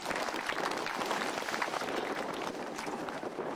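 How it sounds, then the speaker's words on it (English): An outdoor audience at the 33rd Annual Manzanar Pilgrimage in 2002 claps in a dense, steady round of applause, held at an even level from start to finish. "Give everybody a nice round of applause."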